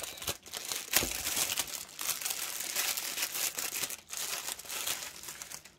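Packaging around an Easter-themed craft kit crinkles and tears as it is opened, a steady run of close plastic rustling and ripping with a sharp crackle near the start and no talking.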